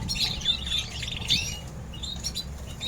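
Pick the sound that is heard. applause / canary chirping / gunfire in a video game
canary chirping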